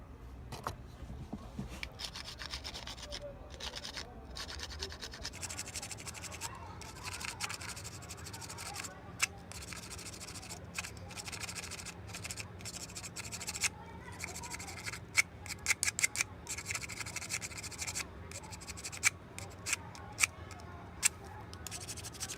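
A knife scrapes and shaves along the handle of a soft wooden soup spoon being carved by hand, with repeated close, dry scratching strokes and occasional sharper clicks, steady throughout.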